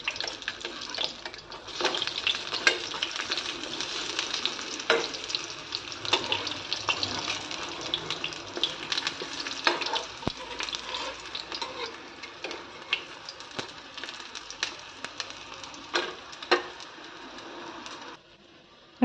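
Malpua sizzling in hot oil in a pan with pitha being stirred alongside, giving a steady close frying hiss with scattered spatters and utensil clicks that fades out near the end.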